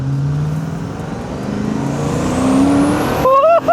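Turbocharged old Rover 3.9 V8 in a car, engine note climbing steadily as it accelerates, loud and close, with a rising whine over the rumble before a sharp shift near the end.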